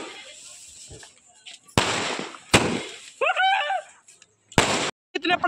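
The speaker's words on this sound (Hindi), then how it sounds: "इतने पटाखे में ले आया हूँ" Diwali firecrackers burst in a few sharp, loud bangs spaced over several seconds, with people talking and shouting nearby between and around the blasts.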